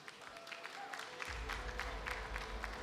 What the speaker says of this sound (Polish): Brawa dla Mielonidasa.